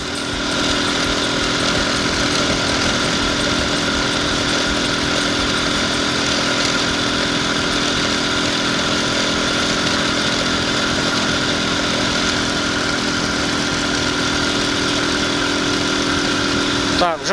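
An IZH Planeta 5 motorcycle engine runs steadily for the whole stretch, a loud, close, buzzing two-stroke drone with a constant tone and little change in revs.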